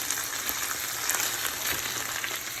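Ginger, garlic and chili sizzle steadily in an oiled pan, a dense, continuous frying hiss heard close up with no talk.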